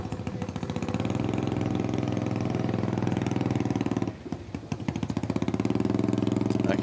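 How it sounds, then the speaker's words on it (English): A loud, raw Harley-Davidson motorcycle exhaust with no muffler chugs and rumbles steadily at a hill climb, briefly dipping around the four-second mark before the uneven popping idle resumes. "I can hear an exhaust in my ear right now that sounds like it's got no muffler"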